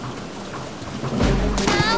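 Rain pours steadily in an animated storm while a rumble of thunder swells partway through; a voice speaks briefly over the downpour.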